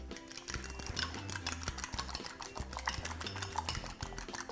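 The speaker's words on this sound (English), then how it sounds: "Give it a little whisk." Egg being whisked in a pan for an omelette, a steady rapid clatter of utensil against metal, close and continuous, with music playing underneath and no talking.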